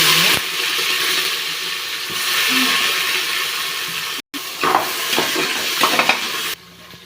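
Curry leaves and onion fry in hot oil for tomato rice, giving a continuous sizzle with scraping stirs and occasional clinks of a utensil against the pan.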